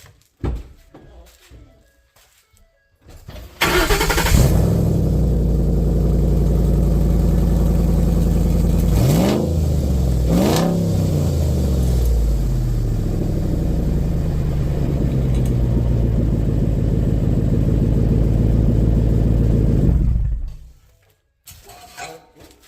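A Ford F-150 truck fitted with a Roush exhaust cranks to life and rumbles loudly and steadily near the microphone, with two sharp revs midway, before being shut off into quiet at the end.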